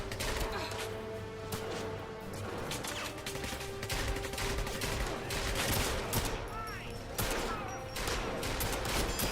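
Rapid bursts of automatic gunfire and single shots from the 007 Legends video game, loud and dense throughout with a voice speaking over parts of it.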